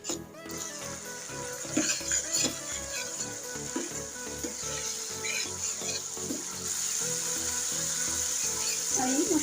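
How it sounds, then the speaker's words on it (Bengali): Spice paste with turmeric and chili powder sizzles and fries in a pan for a Bengali hilsa fish curry with drumsticks and potatoes, with steady close sizzling and occasional stirring scrapes throughout. "আমি মশলাটা ভালো করে কষিয়ে নিচ্ছি।"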